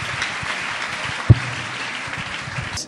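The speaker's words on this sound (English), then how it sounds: "Give Jesus a wonderful clap offering for this awesome testimony" A church congregation applauds after a healing testimony, producing a steady wash of clapping at moderate level throughout, with one brief thump in the middle and an abrupt stop at the end.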